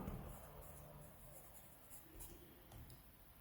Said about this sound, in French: Donc on va écrire